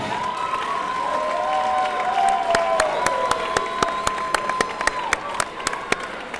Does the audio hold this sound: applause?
yes